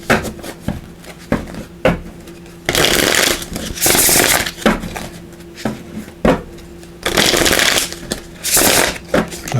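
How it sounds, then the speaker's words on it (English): Revelations Tarot cards being shuffled by hand, giving soft papery riffles and flutters in several bursts with quieter handling gaps between, close up with no talking. "So let's give these a little shuffle."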